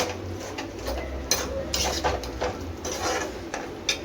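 Vegetables and prawns being sautéed in a pan for a prawn curry, with a steady low sizzle broken by repeated clinks and scrapes of a spoon against the metal pan.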